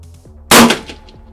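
A single gunshot rings out at an outdoor shooting range, a sharp loud crack with a short metallic clang as it hits a steel target plate, fading quickly.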